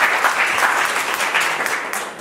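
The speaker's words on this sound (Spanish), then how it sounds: "Un fuerte aplauso para Gerardo Garibay" An audience at a talk on liberty applauds speaker Gerardo Garibay with steady, close, moderately loud clapping that tapers slightly toward the end.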